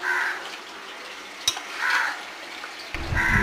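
Meat and spices sautéing in a pan, a moderate sizzle that swells and fades in waves as it is stirred, with a spoon knock in the middle and a louder stir near the end.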